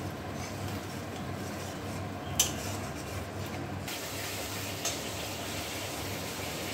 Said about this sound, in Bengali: এবার ভালোভাবে মশলাটা কষবে।